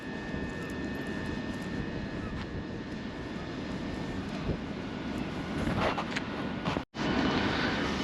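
A Southeastern train runs past at Margate, its steady broadband rumble holding evenly for most of the passage, swelling slightly near the end before a brief cut.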